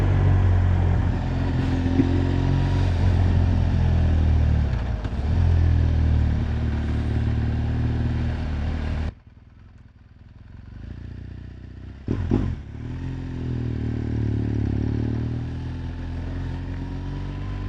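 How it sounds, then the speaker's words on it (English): A 1200 motorcycle with an aftermarket Akrapovic exhaust idles with a deep, throaty rumble on a road near Cape Town, drops briefly quiet, then gives a quick throttle blip before settling back into a steady growl. "Little blip of the throttle just lets people know that you're there."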